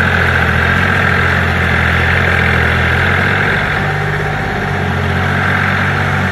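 A tractor engine idles nearby on a mountain driveway, a steady, loud low rumble with a constant vibrating drone throughout.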